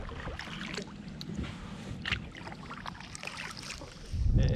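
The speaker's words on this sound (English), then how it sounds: "Got a little bit of wind now." Wind gusts over open bay water near mangroves, heard from a kayak. The rush and buffeting of air on the microphone is steady and close, with a light splash of water and a louder gust at the end.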